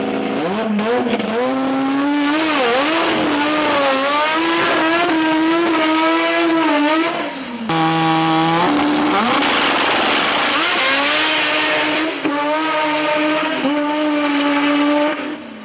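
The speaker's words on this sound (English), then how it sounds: "This rotary powered Beetle sounds insane." A rotary-engined Volkswagen Beetle revving hard and loud nearby, its buzzing, high-pitched engine note climbing through gears, dropping briefly at a shift, then screaming again with faint tire squeal.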